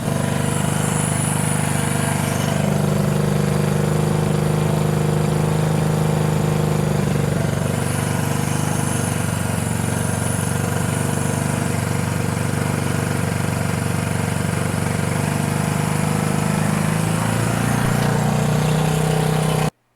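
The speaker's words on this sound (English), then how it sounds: "So bike is obviously hot. It's tinging, making a bunch of noise." A hot 1974 Honda CB 360 motorcycle engine idles during a carb sync, a steady loud mid-pitched drone with slight rises and dips in revs throughout, close up and alone.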